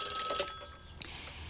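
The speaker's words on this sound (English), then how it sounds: "The phone rang, and I answered it" A telephone rings in a brief, clear electronic trill, followed by a short sharp tone, close and alone with no talking.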